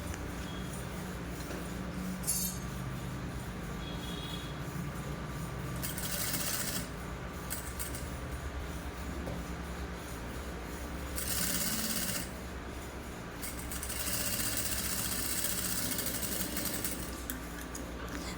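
A sewing machine stitching boning net onto can can lace for a frock runs in long steady bursts, a dense rapid mechanical whir broken by short pauses, fairly close and with no voices over it.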